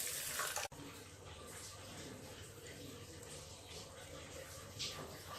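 Foxtail millet and moong dal being rinsed in water in a bowl, a faint, steady wet swishing and sloshing that carries on quietly throughout.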